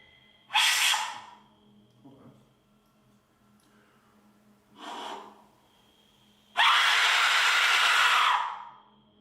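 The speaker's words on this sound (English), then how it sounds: "now it's time for a scream with an Aztec whistle" Three harsh, breathy shrieks from an Aztec death whistle, each a burst of broad noise, the last one long and loud, with quieter pauses between them.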